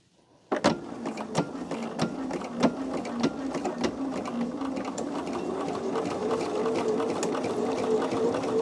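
A sewing machine stitches a quilt and backs up a stitch or two, its needle ticking in a steady, even rhythm close by and starting abruptly, with no talk over it.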